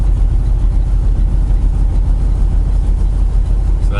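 A truck engine with its Jake brake set to low rumbles loud and close, a deep, steady, pulsing drone that slowly gains RPM.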